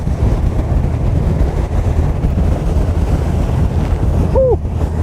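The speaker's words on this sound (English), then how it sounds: "We'll just enjoy a little stroll down the lake with water splashing everywhere." A boat travels across a lake under a constant, loud rumble of wind and water noise that washes over the microphone close up. A brief faint tonal chirp cuts through near the end.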